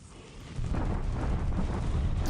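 Bombardment explosions in a World War II naval war strategy video game, a deep rumbling roar that swells after a brief pause and holds steady, loud and dense.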